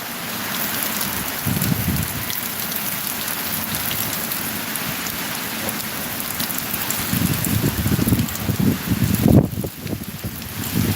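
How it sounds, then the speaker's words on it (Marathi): Heavy rain pours steadily in a dense, hissing wash, with occasional louder gusts and rumbles; no voices. "भरपूर पाऊस आहे बघू शकता"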